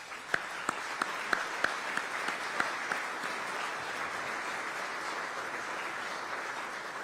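An audience at a city innovation and technology event gives a round of applause for commissioners, a steady wash of many hands clapping at moderate distance, with a few sharper individual claps standing out early and the sound sustained without fading.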